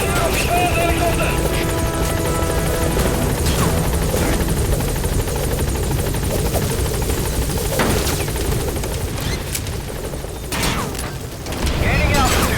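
An enemy helicopter in Metal Gear Solid V: The Phantom Pain thumps with loud, continuous rotor noise, mixed with game sounds and scattered bursts of gunfire, while voices talk over it.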